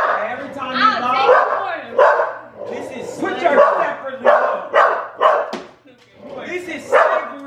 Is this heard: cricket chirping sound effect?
no